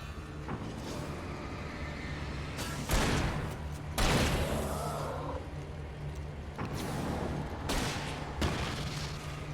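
Gunfire in the Alan Wake video game, with several sharp shots that stand out over a constant low engine-like hum and ambient game sound, spaced irregularly through the passage.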